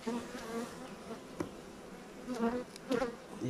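Honeybees buzz around a beehive in early spring, their hum faint and close, swelling and fading as individual bees fly past.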